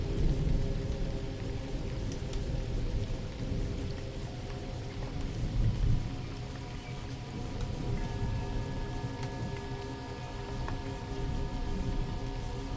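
Steady rain patters continuously on a surface, a soft even hiss with faint scattered drips throughout and no voices.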